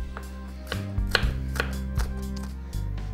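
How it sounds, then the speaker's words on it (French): A knife slices shallots lengthwise on a cutting board, making several crisp, close knocks against the board at an uneven pace with light crunching between them. "J'ai donc émincé les échalotes dans le sens de la longueur pour créer un petit peu de volume."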